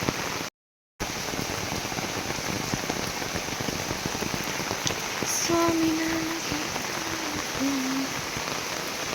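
Steady, dense rain falls outdoors in Konkan farm country, a continuous close hiss with a brief dropout near the start and a few faint tonal sounds later.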